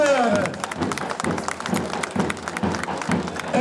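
A crowd at a traditional karakucak wrestling event in Bartın applauds a champion, uneven outdoor clapping in bursts with some voices mixed in, fairly close and loud.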